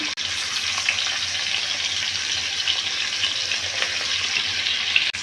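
Small fish for shapla pata fish curry fry in hot oil, giving a steady, loud, close sizzling hiss that holds throughout with faint crackles and no voices.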